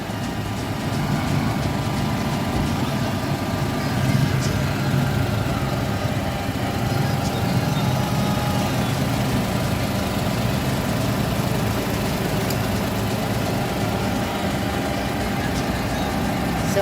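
A Mazda Wagon / Suzuki Wagon R engine, freshly fitted with new spark plugs, idles with a steady, even, close hum that runs unbroken throughout, with no talking over it.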